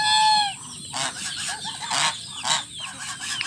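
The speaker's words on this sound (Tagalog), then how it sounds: "Si Gansa." Domestic geese honk repeatedly in loud, nasal bursts, several birds calling over one another at close range.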